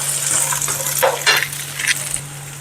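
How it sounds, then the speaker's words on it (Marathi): Potato pieces are stirred and sautéed in a pan for bread poha, with a spatula scraping and clinking against the metal and a soft sizzle underneath, close and alone. "थोडेसे परतून घ्यायचे आहे बटाटे थोडे"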